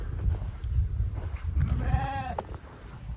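Sheep bleat while being moved on a farm: one clear, wavering bleat rises in the middle over low rumbling and shuffling of animals close by.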